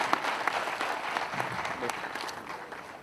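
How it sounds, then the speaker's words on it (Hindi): An audience at a talk on raw-food eating and health claps to welcome a couple, a sustained, moderately loud patter of many hands with a few sharper individual claps standing out, heard from start to finish. "तालियां बजा करके उनका जोड़े का स्वागत करें"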